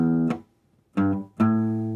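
Distorted electric guitar riff from an intro, three ringing notes with a short gap after the first, each with a sharp pick attack and sustained harmonic tone, close and loud.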